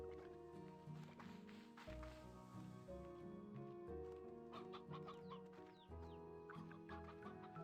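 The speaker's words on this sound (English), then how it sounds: "So many chickens." Video game chickens cluck continuously in a busy flock, overlapping soft clucks and chatter with a few sharper squawks, over a steady backdrop of game music.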